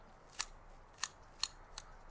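Scissors snipping on an organic farm that sells at farmer's markets, four crisp, separate cuts spaced unevenly over two seconds, close and clear against a quiet background with no talking.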